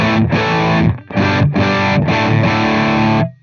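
A guitar runs through the third channel of a Suhr PT100 amp plugin, producing thick, heavily distorted chords in sustained bursts separated by brief gaps, loud and saturated throughout.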